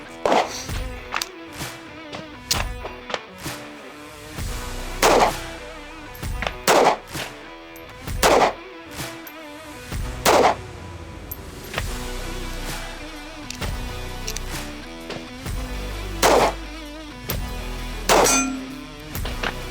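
Sharp, loud reports from an S&W Bodyguard 2.0 pistol ring out one at a time at irregular intervals, separated by quieter gaps of ambient noise.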